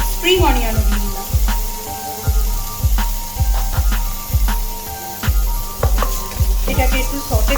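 Carrot, cabbage and spring onion sautéing in a pan over low heat with little oil, giving a steady soft sizzle, with a utensil tapping and scraping in a regular rhythm, close up.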